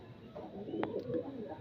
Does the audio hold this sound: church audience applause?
no